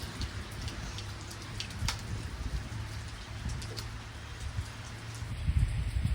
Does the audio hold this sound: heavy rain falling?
yes